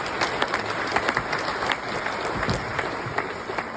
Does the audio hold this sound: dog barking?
no